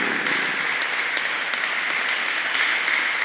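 A church congregation applauding during a French-language worship service, a steady wash of many hands clapping at once, sustained and fairly even throughout with no clear speech over it.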